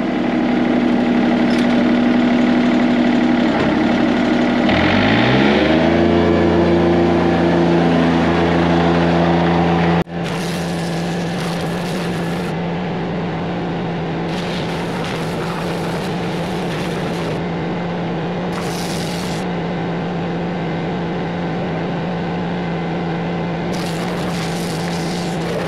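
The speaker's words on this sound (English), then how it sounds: "All right, let's pressure wash." A pressure washer runs to clean the back of a truck, starting with an engine that winds up to a steady, loud drone, then a constant hiss of spray that cuts in and out in bursts, with no talk.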